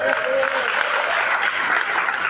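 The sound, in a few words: church congregation applause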